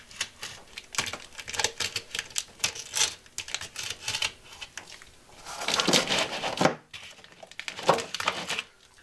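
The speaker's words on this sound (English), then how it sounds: "I'm just gonna cut this in half" A rough board is cut in half during a broken-dish mosaic shower build in a skoolie, giving dense, close scraping and crackling strokes in uneven bursts, loudest around the middle, with no speech.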